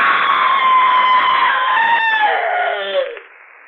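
A shrill, wavering scream from a radio drama rises and then slides downward in pitch, loud and close for about three seconds before fading out abruptly, with no speech.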